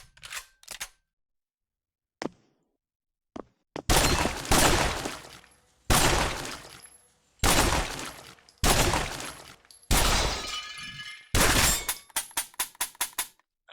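Automatic shotgun in the Pavlov VR game firing loud, sharp blasts one after another, with brief mechanical clicks between, ending in a quick rapid burst of five or six shots.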